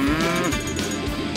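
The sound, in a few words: cow mooing in the video game PAW Patrol Rescue World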